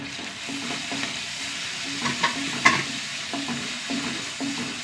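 Onion, garlic, ginger and green chilli sizzle steadily in a pan, with a spoon stirring and scraping through the frying at close range; a few sharper clinks stand out, and no one speaks.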